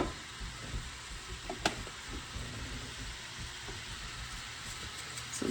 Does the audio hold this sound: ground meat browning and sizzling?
yes